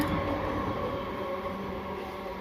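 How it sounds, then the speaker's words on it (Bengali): A train rolls past nearby with a continuous rumbling roar of rail cars, loud at first and easing slightly as it goes by. "এই চলে গেল ঝকঝক করে ট্রেন একটা"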